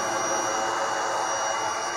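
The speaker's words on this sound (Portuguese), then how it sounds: "Esse barulho que você está ouvindo, gente, é do soprador que fica ali" Air blower running beside a fish-farming tank, aerating the water: a steady, loud, continuous mechanical whoosh and drone with a high whine, with no pauses.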